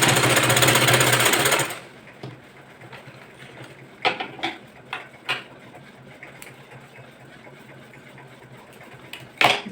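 A sewing machine runs in a loud, fast continuous whir while stitching a double seam on a boat neck blouse, then stops abruptly, followed by scattered small clicks and handling knocks nearby.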